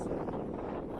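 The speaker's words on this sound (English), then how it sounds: "Windy." Wind gusting across a small knob on the Appalachian Trail near a shelter, a steady broadband rush buffeting the microphone, loud and continuous throughout.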